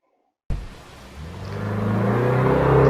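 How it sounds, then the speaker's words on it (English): A car starts up after a moment of silence, then its engine builds steadily into a loud, accelerating roar as it pulls away close by. "And that car drove off."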